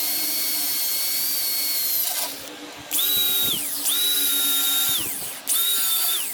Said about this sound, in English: I drill a hole